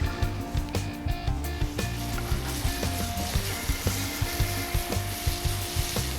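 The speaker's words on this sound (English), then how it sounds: "we're going to saute everything down a little bit, sweat the onions, soften up the mushrooms" Onions and mushrooms sauté in a pan for venison steaks, a soft sizzle under rhythmic scraping and stirring knocks, close and fairly quiet.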